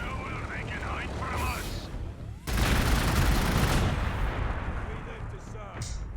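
Gunfire in the strategy game Warhammer 40k Gladius: a sudden loud burst of rapid shots and rumbling blasts that tails off gradually, with someone speaking briefly before it and a faint later shot.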